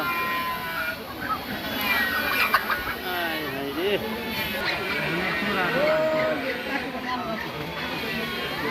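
Roosters and chickens at a poultry sale cluck and call repeatedly at close range, mixed with people chattering and talking over the birds throughout.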